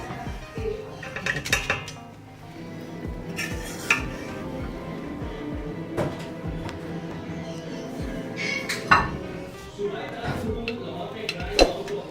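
Cooked chana dal pulao is served from a pot with repeated metal clinks and scrapes of a spoon against cookware, irregular and close, while someone talks over much of it.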